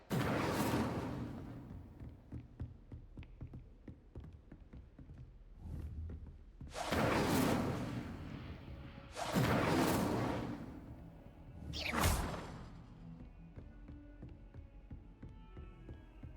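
Incendio fire spell cast in the Hogwarts Legacy video game, heard as several loud whooshing fiery bursts spaced a few seconds apart over a quiet background.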